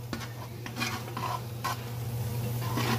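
Onions for French onion soup are stirred in a hot pot over high heat, with close scraping and clinking strokes over a constant low sizzle and no voices.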